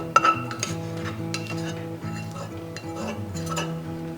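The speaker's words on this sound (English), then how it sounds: "I'm actually going to add in some frozen peas" Frozen peas going into a pot and being stirred, a clink of a utensil against the pot at the start followed by steady scraping and stirring under a low background hum, no voices.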